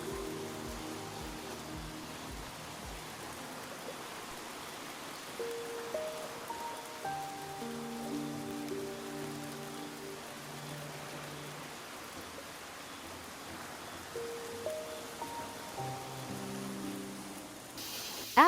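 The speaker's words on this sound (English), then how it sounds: "I love rain." Steady rain falls in a soft, distant, even hiss with faint patter while background music plays over it throughout.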